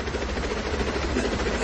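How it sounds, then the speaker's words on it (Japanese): Steady, loud rotor drone of many police helicopters approaching, with a dense, continuous thudding texture, heard alone. "俺の呼んだ警察の特殊部隊の20機のヘリの音だ。"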